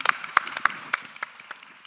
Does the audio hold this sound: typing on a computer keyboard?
no